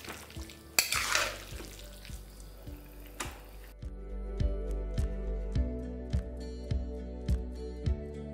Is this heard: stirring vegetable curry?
yes